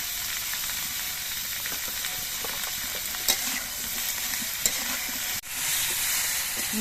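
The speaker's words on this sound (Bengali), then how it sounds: "সবজিগুলো ভাজার সময় আমি পরিমাণ মতো নুন দিয়ে দিচ্ছি" Vegetables fry in a pan with a steady, bright sizzle and occasional clinks of a utensil, the hiss briefly cutting out then resuming louder.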